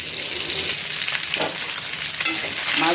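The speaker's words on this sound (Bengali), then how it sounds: "মাছ ভাজা আমার কমপ্লিট" Fish fries in a pan with a continuous crackling sizzle, close and steady, with a few soft stirring or turning sounds and no voices.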